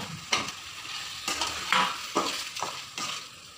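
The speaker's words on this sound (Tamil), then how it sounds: "உருளைக்கிழங்கையும் போட்டு நம்ம இப்போது ஒரு கிண்டி கிண்டுறோம்." Potatoes being stirred into chicken curry in a pan, with a few distinct scraping strokes of a spoon against the pan over a soft background sizzle, close and moderately loud.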